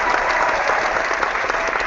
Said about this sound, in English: Yay, thanks for the applause.